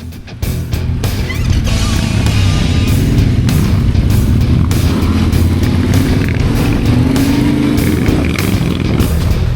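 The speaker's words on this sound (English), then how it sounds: "he's just picking it up and twisting that throttle again" A motorcycle engine roars loud and close as the throttle is twisted, a sustained revving drone with a rough, pulsing texture that holds for several seconds after a brief start.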